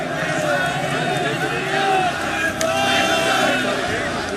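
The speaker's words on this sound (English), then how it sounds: "A mob surrounded the building. As the hour grew later, the crowd grew larger." A large crowd of protesters mobbed around the KGB headquarters building in Dresden, a dense continuous roar of many voices shouting and milling at steady loudness.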